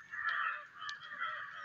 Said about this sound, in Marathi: खूप कावळ्यांचा गोगाट चालू आहे